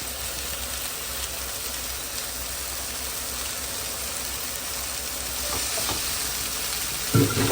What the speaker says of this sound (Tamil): இது கொஞ்சம் வெங்காயமெல்லாம் தாளிச்சுட்டு போடுறேன் பாருங்கள்